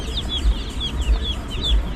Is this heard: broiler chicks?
yes